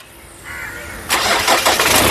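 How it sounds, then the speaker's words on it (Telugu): A 2022 Kia Carens Luxury Plus AMT starts on the first crank: a brief starter whir, then the engine catches and settles into a steady idle, close by. "ఇంజన్ సింగిల్ సెల్ఫ్లో కార్ స్టార్ట్ అవుతుంది."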